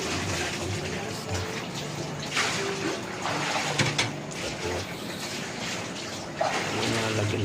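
Water pours steadily into a pan of spicy pork liver adobo, a continuous close splashing rush with faint voices behind it.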